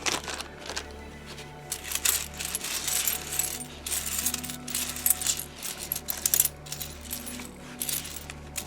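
Assorted world coins, Nepali among them, clink and jingle while being unpacked from nested packaging, a close run of bright metallic taps and rattles in irregular bursts throughout.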